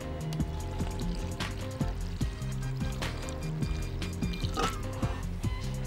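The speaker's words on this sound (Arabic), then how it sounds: "هاخد البسكوت بتاعي اهو، نزل معاه شويه من اللبن،" Milk trickles and pours over chocolate biscuits for a milkshake, with gurgling liquid, small drips and light clinks close up and no voices.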